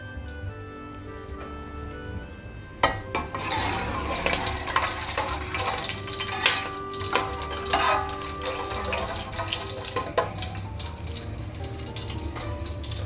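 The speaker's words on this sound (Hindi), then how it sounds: "अब इसी में हम लोग अपना तड़का लगा लेंगे।" Tadka tempering sizzling in hot oil on a low flame for chicken korma, a sudden crackling sizzle that jumps in about three seconds in and then continues as a steady, close frying hiss with small pops.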